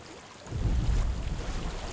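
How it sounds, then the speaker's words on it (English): Flowing water in the video game Hellblade rushes in after a quiet start, a steady low wash of stream or surf noise that stays loud and continuous with no voices over it. "I hear water."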